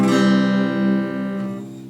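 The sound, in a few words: acoustic guitar in C standard tuning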